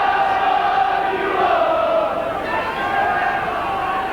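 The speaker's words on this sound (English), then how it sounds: "The whole crowd trying to roar on their favourites" A rugby league crowd at a Widnes versus Hull match roars in a sustained distant swell of voices, with a commentator speaking over the crowd noise.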